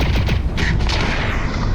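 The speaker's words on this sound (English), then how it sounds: "operating your firearm will produce substantial recoil" A firearm with heavy recoil fires in the VR game Lone Echo 2, a loud, close burst of rapid shots filling the whole moment.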